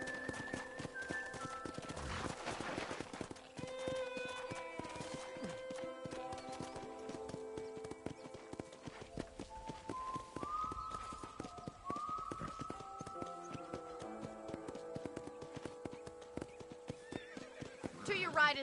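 Horse hooves clip-clop steadily in Red Dead Redemption as a horse is walked around a ranch, with whinnies and neighs mixed in over a running musical score while a voice talks throughout.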